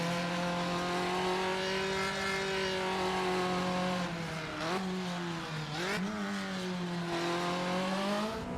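Classic race car in the sim racing game Automobilista 2, its engine roaring loud and close with a sustained rasping tone, dipping and climbing through quick gear shifts around mid-run before settling into a steady high drone.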